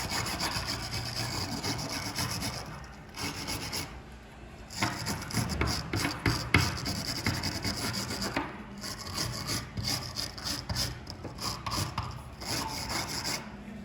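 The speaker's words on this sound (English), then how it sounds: "So you can use a wire brush, just put it on a flat surface." A wire brush scrubbing plaster buildup off a brass blade holder on a flat surface, with close, repeated rasping strokes in bursts and brief pauses between them.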